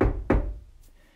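Two solid knocks on a wooden door in quick succession, close and dull-toned, followed by a fainter tap and quiet.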